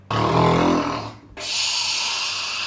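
A pet snores loudly at close range: one long, rough, rumbling inhale followed after a short pause by a breathy, hissing exhale.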